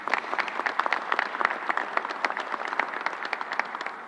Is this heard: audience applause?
yes